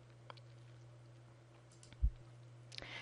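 Quiet, isolated computer mouse clicks during work in Enterprise Manager 12c Cloud Control: a single soft click, a louder thump a moment later, then another click over a faint electrical hum.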